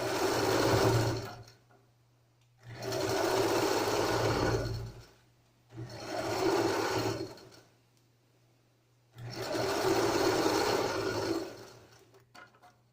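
Sewing machine stitching a zipper onto a cushion cover runs in four loud, close bursts of rapid whirring, separated by short quiet pauses.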